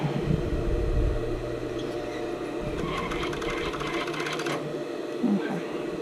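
A sewing machine stitching elastic onto a stretchy mesh brief, quick rhythmic needle chatter in short runs with pauses, fairly close, while a voice talks faintly over it.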